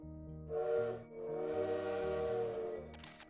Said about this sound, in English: It really is the sound of the train.